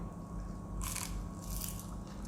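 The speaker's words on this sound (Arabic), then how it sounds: "رقاق حلو مقرمش رغم انه جاي ديليفري." Bites into crunchy roqaq pastry, a thin layered sweet pastry delivered from a restaurant, giving two bright crackling crunches close to the mic against a steady low background hum.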